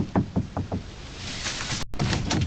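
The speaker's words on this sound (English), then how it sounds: "he knocked on the door to use the bathroom" Four quick knocks on a door in a police interview room, a brief rapping burst followed by muffled shuffling and a faint room hiss.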